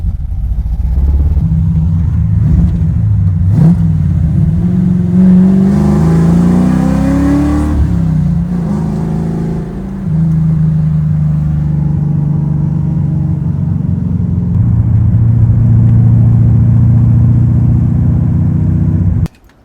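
A first-generation Pontiac Firebird fitted with a Chevy engine and a five-speed runs loud and close, its engine rising in a revving swell midway before settling back to a steady idle hum that holds to the end.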